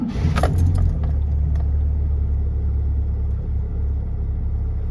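A car engine idles in a steady low rumble while being checked for timing chain noise, with a brief metallic jingle near the start, close and without talk.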